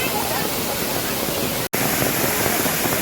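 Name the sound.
rushing water at Gomukh temple stream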